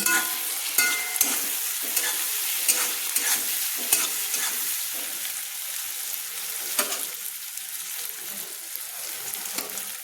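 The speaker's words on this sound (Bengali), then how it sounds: "আমি তেলের সঙ্গে ভেজে নিলাম" Cabbage and green chillies sizzle steadily in hot oil, broken by repeated scraping and stirring strokes in the pan, close and fairly loud with no voices.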